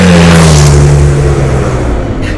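A heavyweight adventure motorcycle's engine revs loud and close on a race track, a steady strong drone holding pitch before easing slightly at the end, with no voices.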